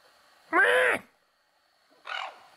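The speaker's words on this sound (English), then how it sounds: "Look at this crow." A crow gives two harsh, loud caws about a second and a half apart, with quiet outdoor air between them, heard by a roadside on a long-distance cycling trip between Alaska and California.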